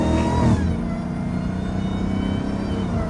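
A Dodge Hellcat engine revs hard, a loud surge of rising exhaust roar in the first half second that settles into a steady, throaty idle rumble, with no distinct pops heard.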